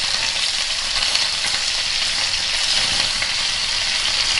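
Chicken fries in a pan for pollo alla cacciatora, giving a steady, dense sizzle that stays even and close from start to finish with no voices.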